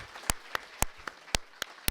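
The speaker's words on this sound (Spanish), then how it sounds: "Les pido un aplauso al doctor" Scattered hand claps from an audience welcoming a doctor giving a lecture at a conference, a few sharp, separate claps spaced out with no continuous roar.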